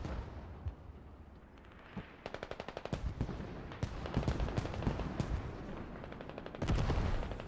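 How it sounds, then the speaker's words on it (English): Mortar barrage in a video game battle: rapid bursts of sharp explosions and automatic gunfire crowd together, loud and dense throughout, swelling into heavier blasts near the end. "Mortar barrage hitting biochem."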